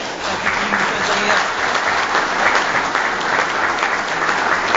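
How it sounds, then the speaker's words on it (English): Steady round of applause from attendees at a city board of mayor and aldermen meeting, dense clapping sustained throughout at moderate volume. "Can we give him a round of applause?"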